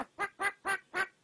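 A pet bird imitates a chicken with four evenly spaced, loud, close clucking calls, each short and harsh, with no talking around them.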